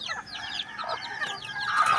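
Several chickens cluck and chatter close by in quick, overlapping bursts, with no one speaking.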